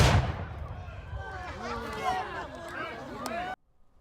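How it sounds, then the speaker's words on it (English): A cannon fires at Colonial Williamsburg in the pasture beside the armory: one sharp, loud boom at the start that fades into a lingering rumble, followed by voices of onlookers talking and calling out until the sound cuts off. "In the pasture next to the armory, we saw a cannon fire."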